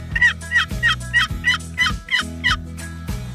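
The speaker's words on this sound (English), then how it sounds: "The yelp is your bread and butter." A wild turkey hen yelps in a steady run of about ten evenly spaced, raspy notes, clear and close, with a low hum running underneath.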